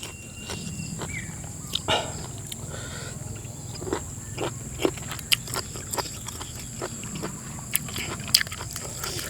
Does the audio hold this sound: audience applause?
no